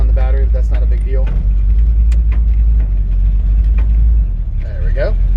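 A 1966 Ford F100 pickup with a 302 V8 that sounds a little built, making about 300 horsepower, idling loud and close with a deep steady rumble, while people talk and keys jingle over it.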